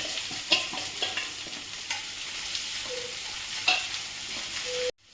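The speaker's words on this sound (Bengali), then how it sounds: "পেঁয়াজটা আমার একটু হালকা ভাজা ভাজা হয়েছে," Onions steadily hissing as they fry in oil with garlic and green chillies in a pan, with occasional stirring clinks and scrapes throughout, ending abruptly.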